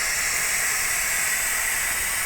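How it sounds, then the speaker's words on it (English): An Instant Pot Pro pressure cooker switched to vent releases steam through its diverter, a loud, steady, close hiss that holds without a break and without talking. "And look at that nice diverted steam."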